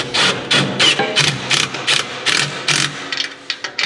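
A ratchet tightens a bolt on the exhaust stack bracket of a dump truck, giving rapid close clicking bursts in a rhythmic back-and-forth series of about a dozen strokes.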